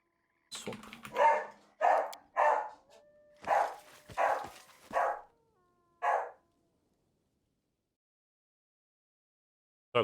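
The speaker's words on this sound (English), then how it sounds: "Sorry about the dog barking, she'll stop really soon." A dog barks in about seven loud, close, separate woofs with brief pauses between them, then goes quiet.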